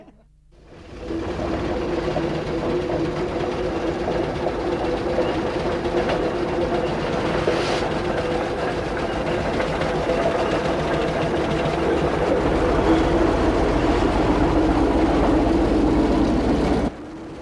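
A 1912 Aveling & Porter steam road roller travels along a road, its heavy rumbling and clanking rising from quiet after a second and holding loud and steady for about fifteen seconds before cutting off, with no speech.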